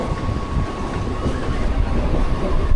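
A Mumbai local passenger train runs at midday with a continuous close rumble and rattling wheel clatter, with a faint steady whine above it and no speech.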